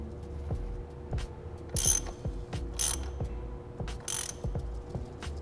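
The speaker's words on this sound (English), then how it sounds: "we can tighten down the extension screw with a 27 millimeter." Ratchet tightening a 27 mm socket on an oil cooler adapter extension screw of a 2022+ GR86/BRZ, steady close clicking strokes with a few brief metallic scrapes, no talk.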